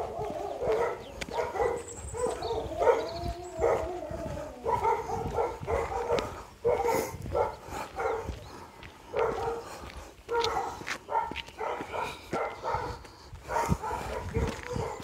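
Dogs bark and yip repeatedly around a run-down shack during a long-distance trek, the barking coming in uneven bursts over steady outdoor background noise.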